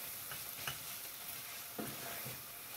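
Spices being stirred into a pot for a Turkish meat and dried bean stew: black pepper, chili powder and pepper flakes. A soft, steady sizzle runs throughout, with a few light scraping knocks from the spoon and no talking.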